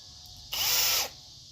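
A power drill whirs for about half a second as a screw is driven into a wooden raised garden bed board, close and fairly loud against quiet surroundings.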